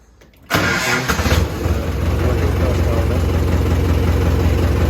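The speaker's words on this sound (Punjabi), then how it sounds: "ਟਰੈਕਟਰ ਲੈ ਕੇ ਟਰੈਕਟਰ ਕਰਦੇ ਆ ਸਟਾਰਟ" A tractor that has stood unused for 20 days cranks and catches after a quiet start, then settles into a loud, steady chugging idle close by.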